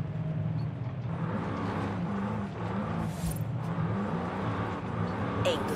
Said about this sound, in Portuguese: Nós tenta fazer um pouco de drift com o V8ão.